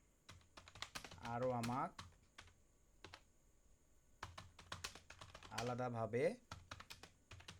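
Computer keyboard typed in short bursts, keys clicking close and quiet, with someone talking in between.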